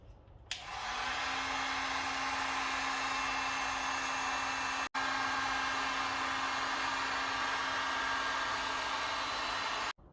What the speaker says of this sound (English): use the heat gun to heat up the adhesive all along the area where the lens meet the housing here